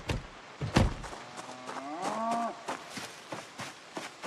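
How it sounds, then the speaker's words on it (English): Within the game Project Zomboid a cow moos once, a drawn-out low call in the middle, surrounded by dull thumps and footsteps on the ground nearby. "I can hear the cow."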